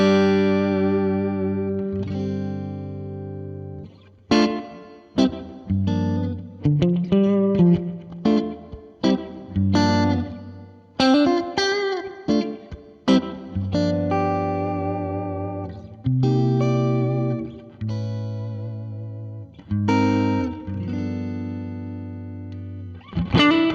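Electric guitar through a Fractal unit with ODS overdrive and vibe reverb, a warm overdriven tone with wobbling, swirling reverb, playing blues chords and bends with sustained notes and pauses between phrases.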